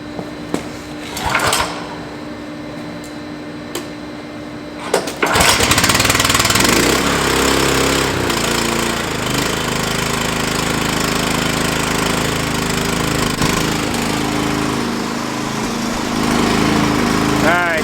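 Hot water pressure washer engine started by hand: a few knocks and clunks, then the engine catches around five seconds in and runs on as a loud, close, steady drone to the end.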